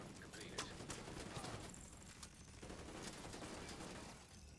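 Gunfire in the video game The Division 2 crackles in quiet, scattered shots and bursts mixed with busy game noise, fairly distant and continuous across the clip, with no clear talking.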